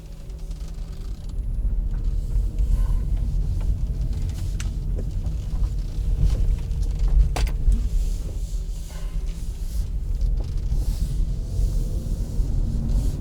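Hyundai Ioniq car in motion, a steady low road rumble and tyre noise inside the cabin, continuous and even throughout, with a few faint clicks and no voices.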